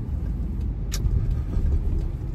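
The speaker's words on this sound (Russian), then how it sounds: "Сейчас будем пытаться остановить машину." A car engine rumbles low and close while driving slowly through a Tbilisi street to find parking, with a steady muffled drone and a faint tick or two above it.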